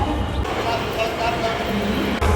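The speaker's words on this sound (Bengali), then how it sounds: "এই মুহূর্তে আছি দমদম জংশন রেলওয়ে স্টেশনে।" Busy ambience at Dum Dum Junction railway station: a dense rumble of crowd noise and distant machinery, with indistinct voices talking throughout.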